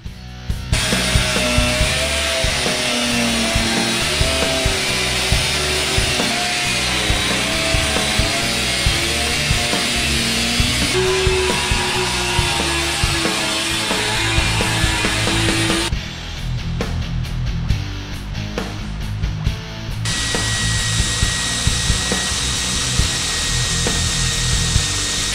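Power tools cutting and sanding aluminum pieces in a workshop, a loud, continuous whirring and grinding with shifting pitch, brief pauses and a change of tool partway through, close and with no talking.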